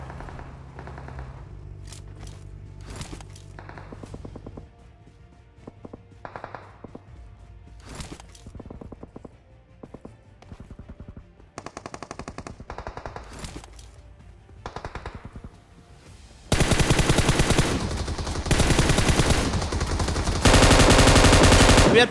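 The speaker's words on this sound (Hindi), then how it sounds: "और भाई सामने कोई फायरिंग कर रहा है" Rapid bursts of automatic gunfire from a mobile battle royale shooter, scattered sharp shots early on building to loud, dense sustained firing near the end, with no talk.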